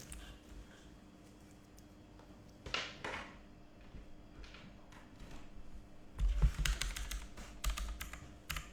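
Typing on an older wired computer keyboard, brought out again in place of a newer one with a dead battery: irregular bursts of clacking keystrokes, sparse at first and growing denser and louder toward the end, close to the microphone with no talking.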